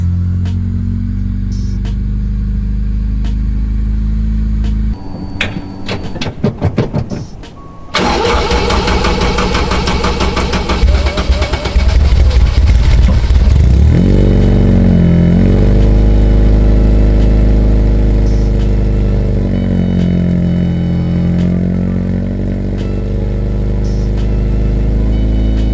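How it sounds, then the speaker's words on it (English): A Honda Civic with a K24 engine, left sitting for six months, cranks briefly with rapid starter chatter, catches and roars up loudly, then settles into a steady, close idle with occasional revs rising and falling. "so the car did start"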